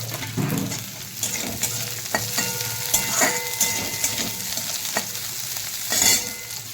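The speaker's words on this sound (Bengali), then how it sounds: "রসুন, পেঁয়াজ, কাঁচা লঙ্কা এগুলোকে একটু হালকা করে ভাজাভাজি করে নেবো।" Garlic, onion and green chillies frying in a kadai for sim bean vorta, a constant close sizzle with repeated scraping stirs and metal clinks of a spatula against the pan.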